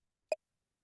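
One brief, lowest-pitched electronic text-scroll blip from a video game, short and clean, isolated in silence.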